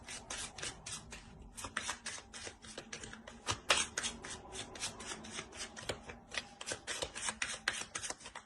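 Tarot cards are handled and shuffled in a rapid run of papery riffles and flicks that goes on steadily, close and fairly loud, with no voices.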